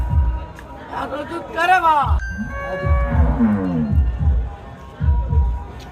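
A dairy cow, 48 days after calving, lets out a loud, rising moo close by, with people talking before and after it.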